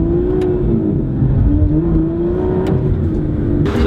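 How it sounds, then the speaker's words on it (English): A convoy of supercars rolls through a small French village, a steady loud engine drone with a sustained low hum and faint whirring, close and continuous, with no talk. "Literally just driving through a little French village with a bunch of supercars"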